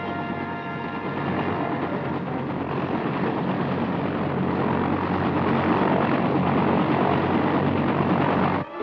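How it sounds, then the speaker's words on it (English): A 1960s US Army helicopter in flight gives a continuous, loud rotor and engine drone. It holds steady throughout, with no talk over it, and ends abruptly. "Army helicopter pilots master the intricacies of rotary flight, so important to today's combat operations."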